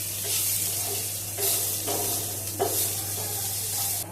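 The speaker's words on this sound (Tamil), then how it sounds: "கீரை நல்லா மசாலாவோட வதங்கிடுச்சு." Drumstick leaves sautéing with masala and peanut powder in a pan, a close steady sizzle and hiss broken by several scraping stirs, with a low hum underneath.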